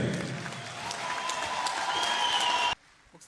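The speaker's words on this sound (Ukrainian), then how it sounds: "Ваші оплески!" A crowd at a veterans' boxing bout applauds steadily for under three seconds, a dense wash of clapping that cuts off abruptly into near silence.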